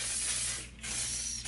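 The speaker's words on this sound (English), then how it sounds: "I do spray a little bit of hairspray." Two bursts of hairspray hiss up close, separated by a brief pause, with a low steady hum underneath.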